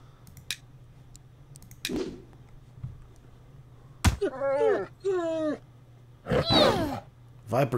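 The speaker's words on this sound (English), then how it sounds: "Oh my god, a mad dog tried to gnaw on Lug." A mad dog attacks in the remastered Bard's Tale I video game, with growling, snarling bursts and sharp hit effects arriving in clustered spurts over a low steady hum.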